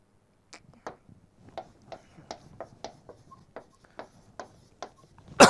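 Someone handwrites the German word 'Pflanzen' with a pen, producing about a dozen short, evenly spaced scratchy strokes close up, ending in a louder rustle.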